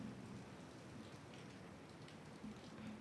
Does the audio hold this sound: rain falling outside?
yes